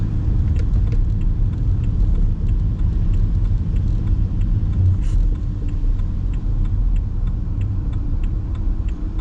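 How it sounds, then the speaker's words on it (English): Car engine idling while parked on a hill during a driving test, a steady low rumble close by with faint ticking, continuous and without talk. "We're going to leave the engine running the whole time"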